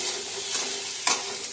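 Potatoes fried in hot oil with cumin seeds give a steady close sizzle, with a short louder clatter of stirring about two-thirds of the way through.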